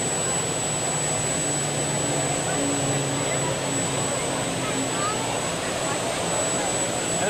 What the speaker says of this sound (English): we get some planes that come in here pretty low over here